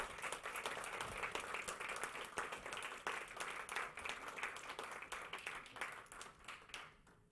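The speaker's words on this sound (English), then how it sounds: "please give them a massive round of applause" Audience applause at an innovation competition pitch showcase, dense steady clapping from a large crowd that carries on for several seconds before easing off at the end.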